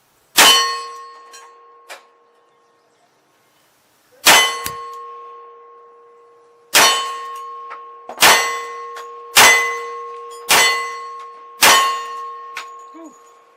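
A military 1911 pistol fires FMJ rounds at a steel target 10 yards away, giving seven sharp shots, each followed by a loud ringing clang that decays slowly, spaced unevenly about a second or two apart.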